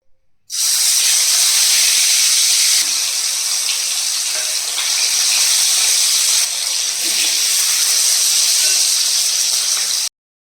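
Potatoes fry in hot oil in a pan, a loud, dense hissing sizzle that starts abruptly and holds steady for about ten seconds before cutting off, close and without talk.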